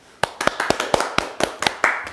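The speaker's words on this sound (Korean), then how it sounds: "박수로 환영하겠습니다" A few sharp, evenly paced claps, about ten in two seconds, greet the chairman of the Korean National Assembly's agriculture, food and maritime affairs committee at a political talk event. Heard close with no other sound.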